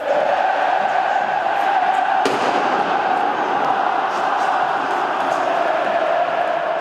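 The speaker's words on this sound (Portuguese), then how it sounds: "Das arquibancadas é possível ouvir aplausos e hinos cantados em uma só voz" Fortaleza football supporters in the stadium stands, a dense, continuous roar of crowd cheering with sustained chanting voices, loud and unbroken, with one sharp bang partway through.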